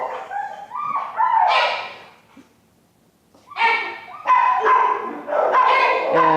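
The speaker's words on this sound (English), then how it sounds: "So it's another Chihuahua mix." Small Chihuahua-mix dog giving high yips and short barks in two close bursts separated by a brief quiet gap, loud and near.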